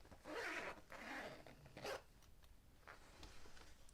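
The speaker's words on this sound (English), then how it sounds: "Unzip your case again." A zipper is pulled open on a sewn fabric supply case, giving several close, scratchy zips in quick succession, followed by softer handling sounds.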